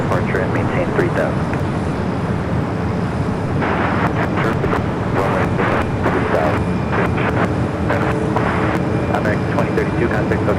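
A Finnair airliner climbs out after takeoff from LAX bound for Helsinki, its steady broadband jet roar filling the air continuously with gusty wind buffeting the microphone.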